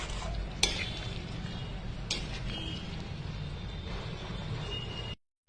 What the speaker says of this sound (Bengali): আমি নাড়াচাড়া করে নামিয়ে নেব।